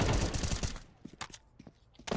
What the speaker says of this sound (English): A couple nice shots from the pistols.